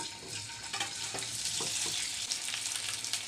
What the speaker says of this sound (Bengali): এবার আমি তেলের মধ্যে দিয়ে দিচ্ছি